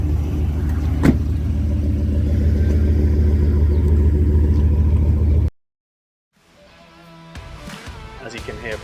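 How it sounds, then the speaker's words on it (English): A 2003 Dodge Ram 1500 Laramie double cab with a 5.7 litre V8 Hemi and two-wheel drive idles with a deep, even, close-up rumble for about five seconds. The sound then cuts off abruptly, and quieter, fainter sounds follow. "Listen to that beautiful V8 purr."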